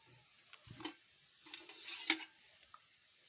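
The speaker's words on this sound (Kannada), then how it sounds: "ಕಡ್ಲಿ ಕಾಳು ಒಗ್ಗರಣೆ ಕುದಿಯತ್ತೆ ನೋಡ್ರಿ" Soaked chickpeas in an oil tempering, soft sizzling with scattered scrapes and clinks of a spoon against the pan, quiet and close with brief louder bursts.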